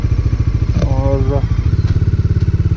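A Bajaj Dominar 400 motorcycle riding along the road, its engine thumping in a steady rapid pulse, loud and close, while someone speaks briefly over it.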